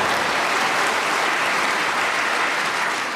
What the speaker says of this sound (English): that applause, by the way, because they love the way you looked as you tried to get it out